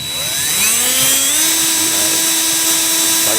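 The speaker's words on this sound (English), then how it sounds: "this is a tap bit. Pretty much what this does, it's pretty much pre-drills the hole for you." A power drill drives a tap bit into a wooden mailbox post outdoors, giving a loud, steady whine whose pitch climbs as the motor spins up and then holds a sustained buzzing tone over rough grinding noise.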